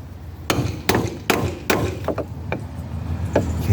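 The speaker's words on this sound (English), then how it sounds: "we're going to use this hammer and then we're going to drive it out" A hammer and a piece of wood drive out a car door hinge pin: about eight sharp, loud metallic strikes land in a fast, uneven rhythm, some in quick pairs, close by.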